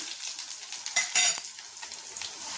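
Peanuts fry in hot oil for onion lemon rice: a close, crackling sizzle with sharp spatters and scraping stirs against the pan, and no talking.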